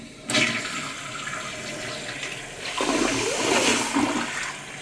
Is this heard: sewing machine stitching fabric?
no